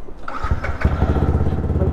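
A motorcycle engine starts up and settles into a steady, throbbing exhaust note, loud and close, with a couple of rough bursts before the even idle rhythm takes over.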